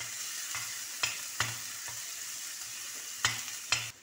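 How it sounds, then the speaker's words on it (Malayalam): Ginger paste, garlic paste and green chillies sauté in a pan with a steady soft sizzle, broken by regular scraping knocks of a spoon stirring nearby. "1 ടേബിൾ സ്പൂൺ ജിഞ്ചർ, 3 പച്ചമുളക്. ഇത് നന്നായി ഒന്ന് വാട്ടിയെടുക്കാം."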